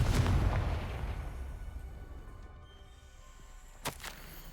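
A Confringo fire spell explodes in the video game Hogwarts Legacy, a heavy, booming blast that rumbles and fades over a few seconds, followed by a couple of sharp crackling bursts.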